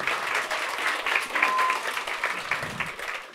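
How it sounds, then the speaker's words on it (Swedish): Studio audience applauding guests as they come onstage at a Swedish talk event, a steady, dense burst of clapping that fills the whole moment with no talking over it. "Ge dem en stor applåd."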